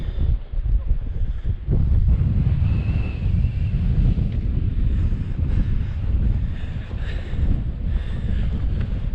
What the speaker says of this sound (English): Yeah, the weather's coming in.